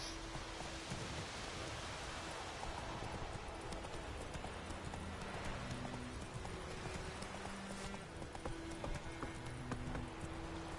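Horse hooves clop steadily over a constant hiss like rain in The Witcher 3: Wild Hunt, a continuous rhythmic patter with no voices.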